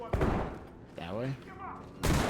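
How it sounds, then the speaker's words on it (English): Gunshots in a video game, two loud sharp bursts with a short spoken phrase between them, set against an otherwise quiet background. "Where's the gunshots coming from?"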